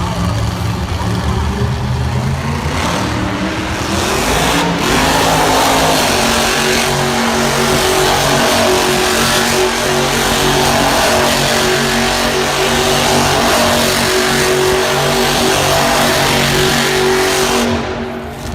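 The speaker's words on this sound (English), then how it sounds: "Let's listen to this truck while it does its donuts." The Avenger monster truck at a 2017 Monster Jam show in Lincoln, Nebraska, roars as it spins donuts, its engine revving loud and steady, climbing in pitch early on and then holding a sustained, close howl to the end.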